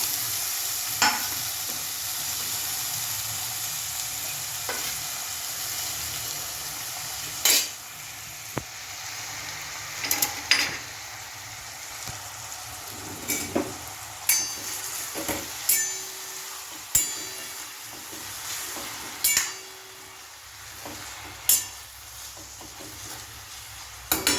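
Green onions frying in a pan while being stirred for a Gujarati pigeon pea (tuver) curry: a low continuous sizzle broken by repeated sharp spatula scrapes and clacks, growing more frequent in the second half.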